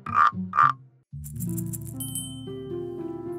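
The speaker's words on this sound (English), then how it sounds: "A little frog has come to say hello to us." Two short, bright croaks from a little cartoon frog in a children's night-time garden show are followed by a soft, plinking musical tune with gentle rattling accents.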